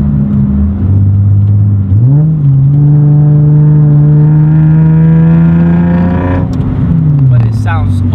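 A car engine revs loudly inside the cabin with the rear hatch open, a low steady drone rising in pitch around two seconds, holding, then dropping back near the end, continuous and close throughout.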